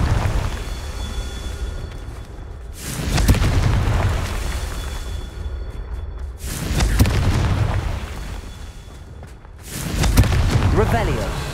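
A Confringo fire spell explodes in Hogwarts Legacy, giving three heavy booming blasts a few seconds apart, each rumbling out before the next, amid other game sound.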